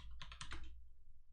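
A computer keyboard is typed on in a quick burst of about five close, crisp keystrokes that then fall away into quiet room tone.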